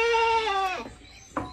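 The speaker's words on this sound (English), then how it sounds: "So we didn't have to search far today, people, for the goat." A goat bleats once up close, a loud wavering cry lasting most of a second, followed by a brief faint rustle.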